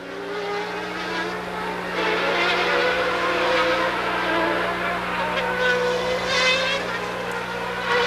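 A Ferrari Formula 1 race car at the 1995 Spanish Grand Prix screams past as a high, wailing engine note that swells and fades over a steady broadcast hum, with commentary talking over it.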